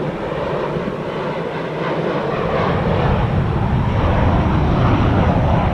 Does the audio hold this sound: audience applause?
no